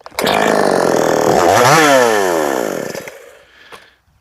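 A small engine with a recoil starter fires and runs loudly up close, rising in pitch as it revs, then winding down and cutting off near the end.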